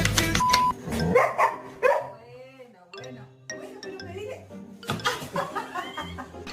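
A dog gives a few soft, breathy barks and whines, close by and fairly quiet, mixed with human chuckling and talking around it.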